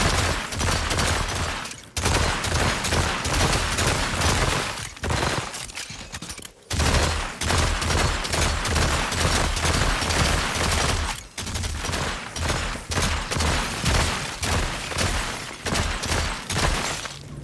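Dense, continuous gunfire from the video game Subway Nightmare, rapid overlapping shots with brief pauses, loud and close throughout with no talking.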